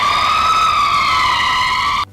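A loud, steady electronic criticality warning alarm tone with layered harmonics holds for about two seconds, then cuts off abruptly.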